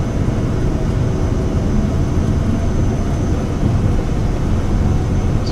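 Airplane on its takeoff roll in a flight simulator game at Glendale Regional Airport, Arizona, a steady loud engine roar and rumble that holds constant throughout.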